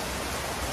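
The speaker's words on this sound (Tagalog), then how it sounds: "malakas pa rin ang ulan dahil sa southwest monsoon" Heavy rain from the southwest monsoon (habagat) falls in the Philippines as a dense, steady hiss. The downpour is loud and continuous, with no break, and no voices are heard over it.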